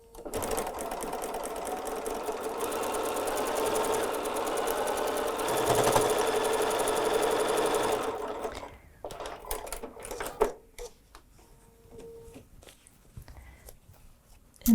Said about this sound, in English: In fact, let me go sew that.